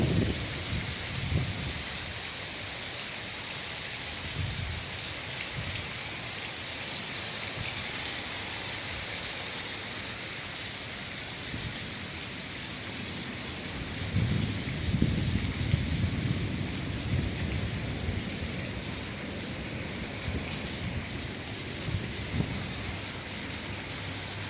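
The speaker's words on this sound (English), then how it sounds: "Seeing some of the heaviest rain." Heavy rain pours steadily during a storm, a broad constant hiss with low gusty rumbles of wind rising and falling, close and loud throughout with no talking.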